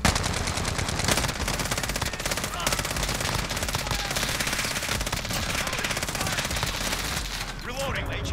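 FiNN LMG light machine gun firing in Modern Warfare, a sustained, loud, close-range stream of rapid shots rattling almost continuously for several seconds, with a voice faintly under the din.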